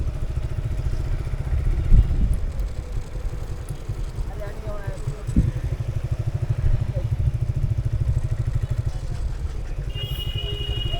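A motorcycle engine drones steadily at close range while riding on parliament grounds in Bangladesh, with a throbbing low hum, a few clattering bumps along the way, and voices talking faintly underneath.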